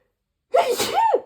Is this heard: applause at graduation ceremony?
no